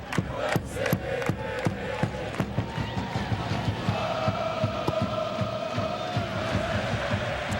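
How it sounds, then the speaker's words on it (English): Stadium crowd at a USA vs Trinidad & Tobago soccer match roars and cheers continuously, with rhythmic stomps or claps thumping through the dense crowd noise. "This crowd has never stopped from the minute this game started."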